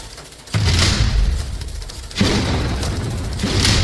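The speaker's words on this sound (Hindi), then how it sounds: "बमबाज गुड्डू मुस्लिम गनर पर बम फेंकता नजर आया।" Bomb blast from a thrown bomb during an armed street attack in a narrow lane, heard as a loud boom followed by a second heavy burst and sustained rumbling noise, with no talking.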